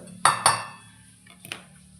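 A spoon strikes a pan while ground ginger, garlic, chilli and peanut paste is mixed for rolled alu vadi, giving three sharp, close metallic clinks with quiet gaps between them and no voices.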